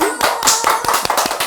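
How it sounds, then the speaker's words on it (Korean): Brief burst of hand clapping from a small audience welcoming a skin-care clinic director onto a Korean beauty talk show, the claps quick and irregular, close and fairly loud, with no talk over them. "박수!"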